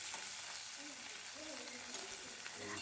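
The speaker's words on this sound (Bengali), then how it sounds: "গরম সর্ষের তেলে দিয়ে দিয়েছি চিংড়িগুলো চিংড়ি মাছ বেশিক্ষণ ভাজতে হয় না" Prawns fry in hot mustard oil, giving a steady, close hiss and crackle that runs without a break. Faint voice-like tones sit low in the background.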